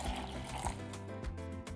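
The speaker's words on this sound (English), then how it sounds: "pour it into the blender as well." One cup of soaking liquid from rehydrated guajillo peppers is poured into a blender, a short, close, steady watery pour lasting under two seconds.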